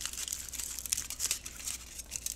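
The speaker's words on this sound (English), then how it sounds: "tinfoil. I'm gonna crumple half of it" A sheet of tinfoil is crumpled by hand nearby, producing a continuous crisp crinkling and crackling of irregular bursts at a fairly quiet level.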